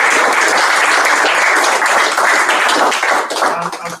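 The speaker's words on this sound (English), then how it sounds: "I think we should give them a little round of applause." Rotary Club meeting members giving a round of applause, loud, dense clapping from a nearby group that holds steady for several seconds before tapering off and stopping.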